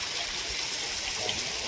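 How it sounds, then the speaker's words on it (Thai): Water pours steadily from a watering can or hose to soak garden soil, giving a continuous close splashing trickle with no pauses. No one speaks over it. "รดน้ำให้ดินมันเป็นเปียกก่อน"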